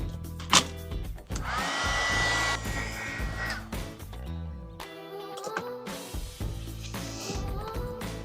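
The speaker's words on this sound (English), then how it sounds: "heat gun again." A handheld heat gun blows a steady, loud whooshing stream of hot air with a faint whine while art journal pages are prepared, then cuts off, leaving quieter handling clicks and thumps.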